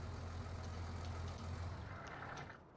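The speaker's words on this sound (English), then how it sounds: "turn that tractor off, because one, it's noisy, and two, I can't hear anything" A tractor engine runs with a steady low rumble and hum, close and fairly loud, then eases off slightly near the end; no talking.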